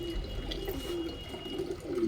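Low, soft pigeon coos repeat over a steady background hum, with a faint constant high whine throughout.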